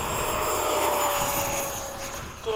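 F-5 jet at LFE in a strong crosswind, engine roaring loud and steady through the takeoff run with a sustained whining tone, easing slightly toward the end.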